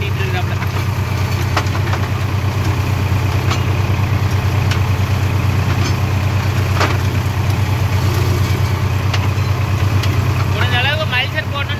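A JCB and a Swaraj 963 FE tractor run on a farm with a Lemken 18-blade mulcher. Their engines give a steady, close, low diesel drone throughout, with faint voices in the background.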